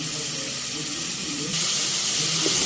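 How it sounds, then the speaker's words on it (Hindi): Frying in a pan for goat yakhni pulao, a steady loud hiss and sizzle of oil that grows brighter and louder partway through, heard close with no talking. "मेरे ये अच्छे से फ्राई हो रहा है"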